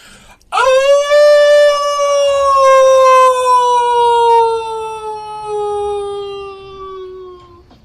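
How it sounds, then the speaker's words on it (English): A creature's long, loud howl in a tabletop game session rises sharply, then holds and slowly falls in pitch for about seven seconds, alone without talk. "it locks eyes and throws its head back for a long howl"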